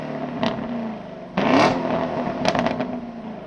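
A 2022 Chevy Camaro SS 1LE with its V8 exhaust, heard from outside the car: a low idle rumble with short revs and one stronger blip of throttle, fairly close.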